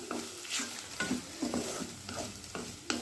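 A spoon stirs an okra stir-fry in a hot pan, giving repeated scraping strokes about every half second over a steady sizzle of frying.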